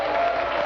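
Brief burst of studio audience applause at a televised Brazilian religious debate, a dense, loud clatter of clapping filling the short moment without talk.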